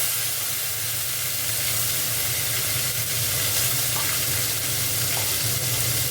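Ginger and cumin seeds sizzling hard in hot oil for a cauliflower-potato curry, a loud, dense, unbroken frying hiss close by with faint spattering, no voices.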